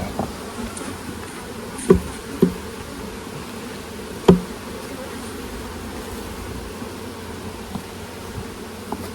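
Honeybees humming steadily around an opened hive while a beekeeper inspects frames, with a few sharp knocks of wood and tools breaking through the dense, close buzz.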